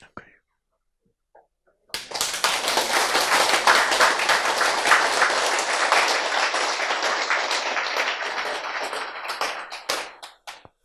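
An audience claps together after a short quiet start, a dense burst of hand clapping that holds steady for several seconds, then thins into a few scattered claps.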